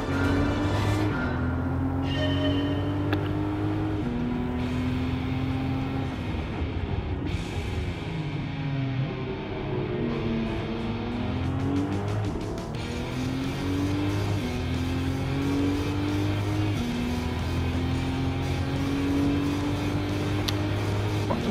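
A 2019 Toyota GR Supra RZ race car in Gran Turismo, on the Circuit de Spa, its engine droning loudly and steadily, stepping up through gears with repeated rises and shift drops, with brief revving sweeps and no talk.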